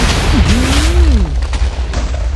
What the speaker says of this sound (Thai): ดูนะว่าระเบิดสักเท่านี้มันจะระเบิดฮิโรบายได้หรือไม่จุดก่อนเลยครับ